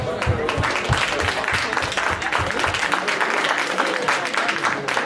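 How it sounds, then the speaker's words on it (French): Steady applause from a crowd, dense clapping sustained throughout at a moderate level, with some faint voices mixed in. "Alors, je demanderai d'applaudir Lydia, s'il vous plaît."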